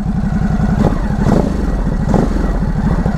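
2020 Ducati SuperSport motorcycle engine running close and loud, a low uneven idle that rises in two short revs before settling back.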